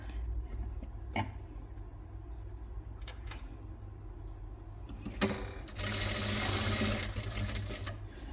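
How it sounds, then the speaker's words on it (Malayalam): A sewing machine stitches lace onto a shawl with a steady close mechanical hum and a few sharp clicks, speeding into a louder, denser whir toward the end. "എന്നിട്ട് ഈ എൻഡ് വരെ സ്റ്റിച്ച് ചെയ്തെടുക്കുക."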